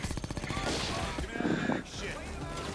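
Automatic weapons fire in Payday 2 played in VR chatters in a steady, fast run of shots, then a denser, louder volley follows, with a voice talking over the din.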